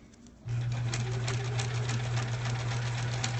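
A sewing machine runs steadily as it stitches a quilt block, a close, continuous mechanical whir with a low hum and rapid needle ticking, starting abruptly after a brief quiet moment.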